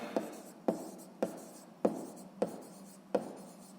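A pen taps and scratches on paper while a math answer is written down, six distinct strokes with brief scratchy trails, close and alone without talk.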